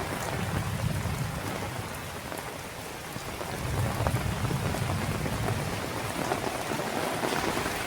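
Heavy rain with wind falling on a village home and its vegetable garden, a dense, steady hiss of downpour on surfaces that swells louder midway, with low rumbling like distant thunder, and no voices.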